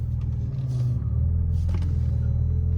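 A failing power steering pump on a 2001 Audi B5 S4 drones with a steady low whining rumble close by, holding constant under the idling engine for the whole stretch, with no voices.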